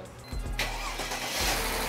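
A car engine cranks briefly, then catches and settles into a steady, loud idle close by, after repair work on the vehicle's transmission.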